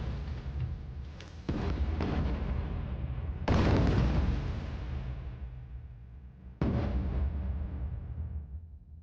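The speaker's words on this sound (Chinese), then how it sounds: "炮击未止，轰炸机加入" Artillery shelling in a Chinese war film about fighting Japanese forces: three heavy booms strike in turn, each swelling into a long, rumbling roar that slowly fades before the next blast lands.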